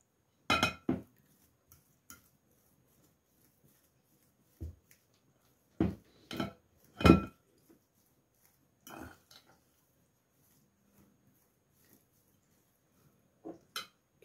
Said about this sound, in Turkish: Haşladım canlar. Şöyle çatalla eziyorum.